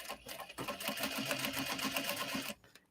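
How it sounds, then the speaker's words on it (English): A sewing machine stitches a fabric clutch made from obi and kimono material around a curve, running in a steady rapid chatter for about two seconds before stopping, with no talk. "You know you want to sew around this curve."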